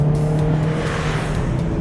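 A Renault Clio Sport 182 on the move, its engine holding a steady, loud hum close by with a faint whine above it, with no voices.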